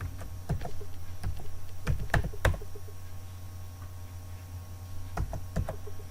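Computer keyboard typing on a Windows PC, scattered light key clicks in short bursts over a steady low hum, fairly quiet.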